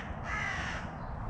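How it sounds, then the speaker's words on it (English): Crows cawing outdoors, a harsh call standing out over steady background noise for about a second, moderately loud with no talking. "Now it's the crows. The blimmin' crows."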